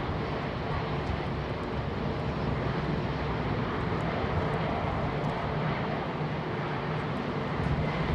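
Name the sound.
aircraft jet engines departing London Heathrow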